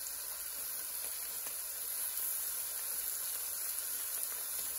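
Seasoned shrimp frying in a hot pan give a steady, even sizzle and hiss that runs unbroken from start to finish, close and fairly quiet with no other sounds.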